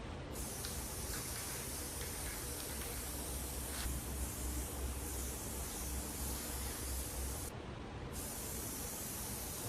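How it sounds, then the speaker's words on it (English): Gorilla spray adhesive hisses continuously from an aerosol can onto material for a car's rear package tray, a steady close spray held for nearly ten seconds with two brief pauses near the end. "This isn't the normal brand spray adhesive I get, but it's got to be strong. I mean, it's Gorilla."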